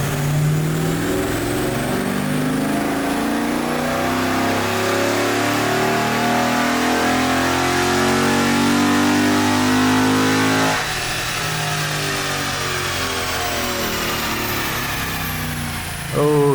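A 2011-or-later Dodge Challenger with a 6.4L Hemi V8 and Stage-2 naturally aspirated tuning revs hard on a dyno, a loud, sustained climbing engine roar that drops off sharply near the end.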